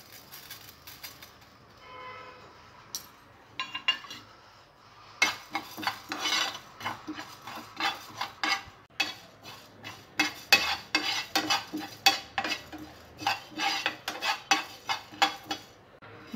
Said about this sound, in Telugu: స్టవ్ మీద ప్యాన్ పెట్టుకొని ధనియాలు, జీలకర్ర వేసి డ్రై రోస్ట్ చేసుకోవాలి